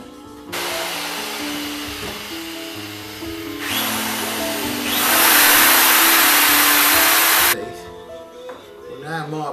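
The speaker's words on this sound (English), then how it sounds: "drill the hole" A power drill whines steadily for several seconds, rising louder and higher midway, then stops abruptly, drilling a hole while building a Ford GT40.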